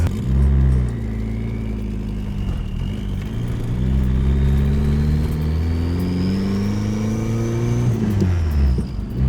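A Nissan 240SX with a KA24DET engine pulls hard on a test drive, its engine note climbing through the gears with audible shifts and a rising whine over a loud, close drone.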